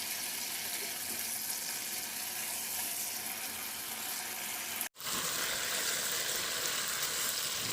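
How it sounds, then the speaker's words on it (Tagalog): Water pours steadily into a pan of pork lomo and pechay stir-fry seasoned with oyster sauce and liquid seasoning, one litre added as a dense continuous rushing hiss that breaks off briefly near the end, then resumes. "Lagyan ko na ng tubig. Bali, 1 litrong tubig ang nilagay ko."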